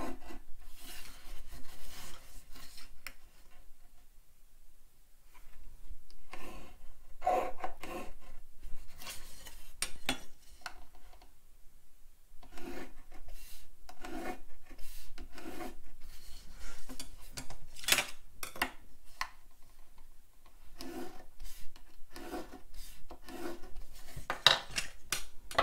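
A folding tool pressed hard along paper scores creases into a radiating pop-up card, making repeated short rubbing and scraping strokes in bursts separated by brief pauses. The sound is close and fairly quiet, with no speech.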